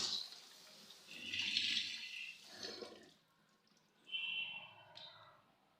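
Water splashes and trickles faintly in two short bursts as peeled carrots are rinsed in a home kitchen, with no talking.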